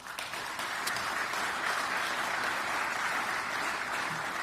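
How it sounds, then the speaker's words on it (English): A crowd at a new concourse dedication ceremony at Ronald Reagan National Airport gives a sustained round of applause, a thick, even roar of clapping that holds steady for the whole stretch. "You deserve a huge round of applause for your leadership in bringing this about."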